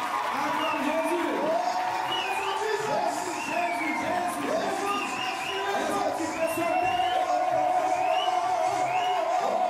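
A church congregation cheers and shouts in acclaim of Jesus, a dense, sustained crowd roar of many voices with whoops and rising yells that keeps going at full strength.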